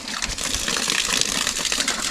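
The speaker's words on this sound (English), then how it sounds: "So now the water's coming out." Water gushes steadily out of a drain pipe at an off-grid tiny house, a continuous broadband rushing splash that stays loud and close with no talk.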